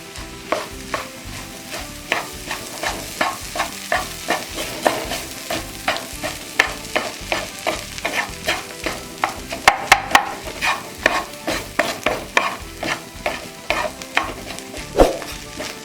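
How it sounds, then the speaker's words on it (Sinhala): Chicken koththu being stirred with chicken gravy on a hot griddle, with a steady run of metal spatula scrapes and clacks over a constant sizzle, close and fairly loud and carrying on for the whole stretch without voices. "ඊළඟට chicken gravy ඊළඟට අපි කලවම් කරගමු හොඳට."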